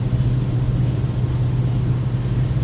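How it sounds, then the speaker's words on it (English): Steady low engine drone and road roar inside a 2024 Nissan Versa with a 5-speed manual, cruising on a highway; a constant, loud, even rumble with no talking. "it's pretty noisy in here. You can hear just about everything."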